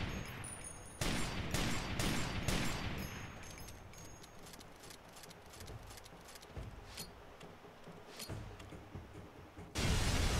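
Far Cry 2 gameplay shows a sudden loud blast, followed by a rapid rattling volley like gunfire that tapers into a quieter rumbling aftermath, before a second heavy burst hits at the end.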